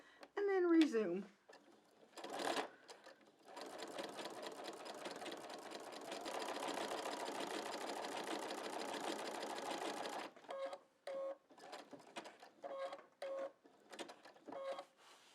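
A sewing machine stitching quilt blocks: one short stitch, then a longer steady whirring run, then a string of brief bursts, with a person talking softly around it.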